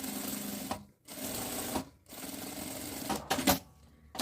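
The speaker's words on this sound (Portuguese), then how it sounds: "a gente vai costurar só zíper e o tecido principal que está na manta" Sewing machine stitching a zipper to the main fabric of a small double bag: close, rapid mechanical clatter in runs of about a second, broken by short pauses.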